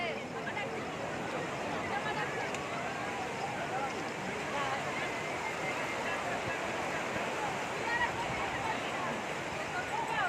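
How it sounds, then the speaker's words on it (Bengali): Big sea waves roll onto a beach in a steady, close, loud roar of surf mixed with wind buffeting, continuous and unbroken throughout. "ঢেউ আসছে"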